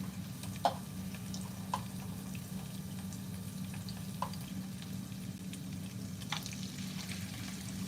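Potato patties fry in a pan with garlic and onion, giving a steady low sizzle throughout with a few faint clicks and taps scattered over it.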